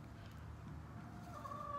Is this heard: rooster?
yes